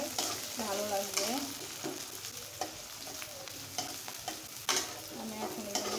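Chopped onion, green chili and coriander stems fry and get stirred in a pan, a steady sizzle running throughout with scraping stir strokes, while music plays in the background.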